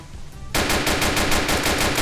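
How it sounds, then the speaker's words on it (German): After a brief lull, rapid automatic gunfire in a Roblox game erupts and continues in a steady, loud burst of evenly spaced shots. "Oh, ich höre Schüsse."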